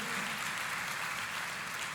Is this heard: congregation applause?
yes